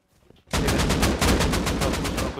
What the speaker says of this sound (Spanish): No escucho con los tiros, bro.